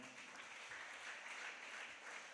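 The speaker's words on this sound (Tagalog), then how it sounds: "Palakpakan natin ang ating mahal na Panginoon." Applause from a church congregation during a Filipino worship service, a steady wash of many hands clapping that sounds faint and distant throughout, with no voices over it.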